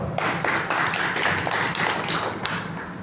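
A crowd at a local rally meeting claps to welcome a newly chosen Buddhist association leader, sustained uneven clapping with sharper individual claps, moderately close.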